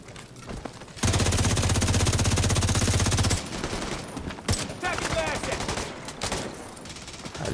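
Bursts of rapid automatic fire from a police M4 rifle in The Division 2. A loud, dense rattle lasts a couple of seconds, then sporadic shots, impacts and game effects follow with some chatter.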